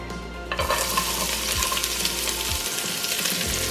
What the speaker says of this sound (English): So first let's add our onions.